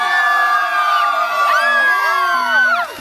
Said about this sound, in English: You're cheering on the sports team.